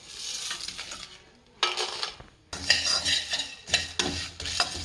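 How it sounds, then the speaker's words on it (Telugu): Whole cardamom and coriander seeds tossed and stirred in a kadai, with repeated scraping and clattering bursts of metal against metal and a light sizzle between the stirs. "కడాయి పెట్టుకొని యాలకులు వేసుకోండి, ధనియాలు, ఇవన్నీ మనం వేయించుకుందాము"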